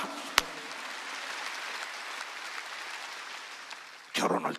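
Church congregation clapping at a preacher's urging during a sermon, a steady dense patter held for about four seconds, opening with one sharp clap and closing with a louder burst.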